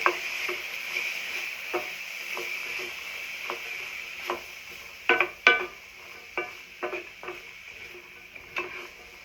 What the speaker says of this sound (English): So here are the drained beans. I'm going to put them into our skillet.